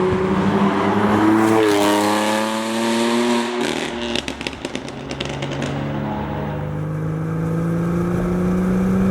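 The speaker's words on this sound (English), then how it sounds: "It is not one of the best sounding cars on the planet, but it sounds very nice." A BMW M2 sports car engine revs up loudly, then crackles and pops from the exhaust before settling into a smooth, rising drone as it drives on.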